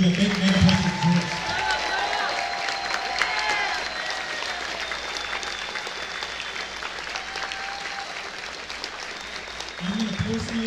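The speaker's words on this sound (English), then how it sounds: "Big round of applause for all the people that make Megaplex exist." An audience at a Megaplex cinema closing ceremony keeps up scattered, moderately loud applause for about ten seconds, with a few voices and crowd murmur beneath and a louder voice at the start and end.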